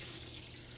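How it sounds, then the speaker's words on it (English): Water being poured into a red claw crab aquarium habitat, a soft continuous splashing flow, quiet and steady throughout. "But yes, the water is pouring in."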